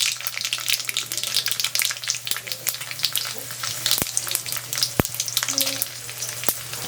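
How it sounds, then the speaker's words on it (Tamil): Mustard seeds splutter in hot oil, a dense close crackle of rapid pops with a few sharper bursts, steady throughout with no talk. "கடுகு நல்லா இப்போ பொரிஞ்சுன்னு இருக்குது"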